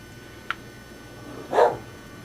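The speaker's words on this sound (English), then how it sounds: "Such a vicious dog." A dog gives a short sharp yip followed about a second later by a louder single bark, both fairly faint and somewhat distant over quiet indoor background noise.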